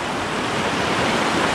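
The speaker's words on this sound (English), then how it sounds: "Wow, what a creek." Small mountain creek flowing, a close steady broadband rush of water running alone without voices.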